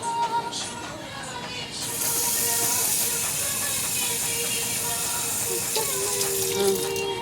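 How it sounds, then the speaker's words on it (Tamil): Water poured from a tumbler into rice for tomato biryani in a home kitchen, a steady broadband rush that swells after a couple of seconds and runs on without a break, close and fairly loud, with no talk over it. "இப்போ 3 டம்ளர்ஸ் ரைஸ், 6 டம்ளர்ஸ் தண்ணி ஊற்றணும்"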